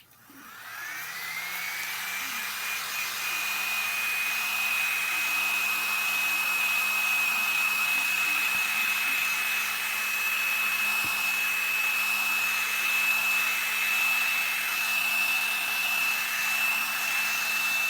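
A heat gun warming polymer clay: a steady, loud blowing roar with a constant whine that spins up in the first second and holds unchanged, close by and uninterrupted, with no talking.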